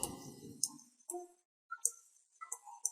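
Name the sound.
computer mouse click in drawing software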